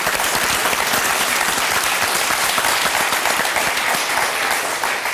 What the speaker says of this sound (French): Et on va applaudir très fort Aurélie et Nathalie.